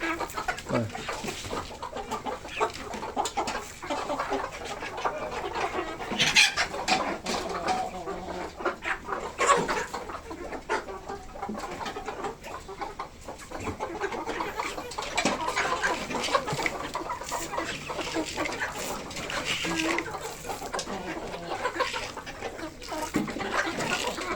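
Native chickens on a poultry farm cluck and chatter continuously while pecking at grain feed, a busy, close flock sound with scattered sharp peck-like clicks throughout.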